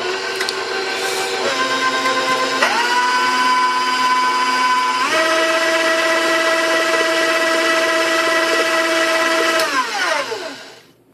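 An electric mixer beats chocolate chip cookie batter with brown sugar, its loud, steady whine stepping up in pitch a few times before winding down and stopping near the end.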